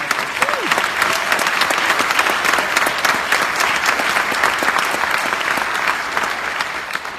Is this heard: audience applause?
yes